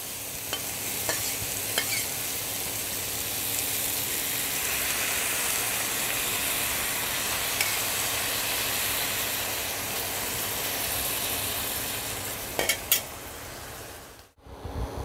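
Boiled mung dal goes into a pan of frying vegetables, bringing a steady, hissing sizzle that holds for a long stretch, then a few clinks and a brief pause near the end.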